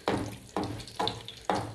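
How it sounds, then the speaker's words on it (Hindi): Handi roti frying in hot oil over a low flame, with four sharp sizzling bursts at a steady pace, each swelling quickly and then fading into a softer crackle. "हल्की आंच पे इसको हम फ्राई करेंगे। और थोड़ा थोड़ा सा ऑयल इसके ऊपर मैं डाल दूँगी, गरम ऑयल से ये अच्छी तरह भूनेंगे भी।"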